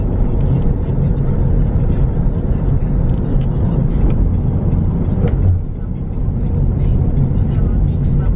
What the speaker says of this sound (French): une route avec bien sûr pas mal de circulation